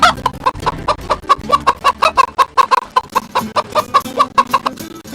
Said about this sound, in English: Soon enough, a chicken came along.